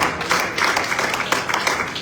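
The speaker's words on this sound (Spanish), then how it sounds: "Fuerte el aplauso a Jesús." Congregation at a Pentecostal church service applauding, a dense steady wash of many hands clapping at moderate loudness for about two seconds, with no clear voices standing out.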